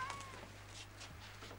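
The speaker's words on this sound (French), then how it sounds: "Tu as acheté un chat?" A cat meows several times in a quiet indoor room, faint and slightly distant, over a steady low electrical hum.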